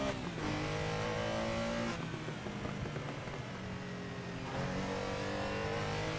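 Porsche Carrera RSR race car in Assetto Corsa on the Spa track, its engine revving and blipping through heel-toe downshifts with a sequential shifter, two rising rev flares over a steady racing drone, fairly quiet.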